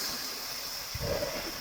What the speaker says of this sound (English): Come on, guys, under the waterfall!